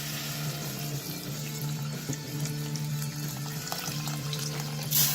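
Water pours steadily into a pot of Chilean chicken cazuela with potatoes, a continuous close rushing splash that swells briefly near the end.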